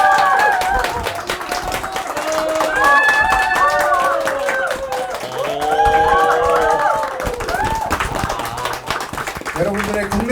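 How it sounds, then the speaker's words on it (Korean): A crowd of fans applauds and cheers at a first live debut concert, clapping and excited shouts swelling in waves with talk mixed in throughout. "박수와 함성 소리 부탁드립니다."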